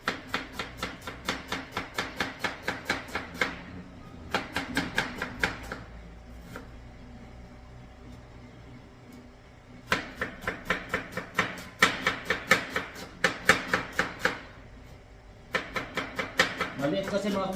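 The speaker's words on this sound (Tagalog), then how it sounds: "Marami-rami ito mga kabutser na hiwain." Mushrooms sliced with a knife on a cutting board in a small kitchen: rapid, regular close chopping strokes in bursts with short pauses, and a voice talking faintly in the background.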